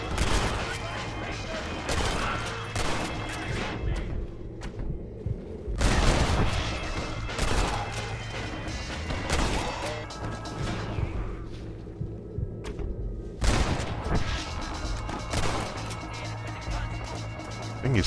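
Gunshots from the zombie western game Red Dead Redemption Undead Nightmare crack out in a few loud spaced blasts over a steady background din, with someone talking throughout.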